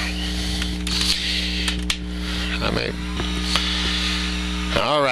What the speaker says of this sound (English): alrighty, heat gun's warmed up.